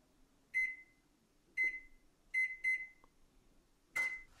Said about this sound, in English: First thing we need to do is to put our oven on.